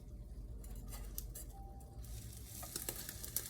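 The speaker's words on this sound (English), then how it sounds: "Now I just got to get this egg done" An egg frying in a pan for a breadless low-carb ham and cheese, giving a faint steady sizzle with small clinks of a utensil near the end, no talking.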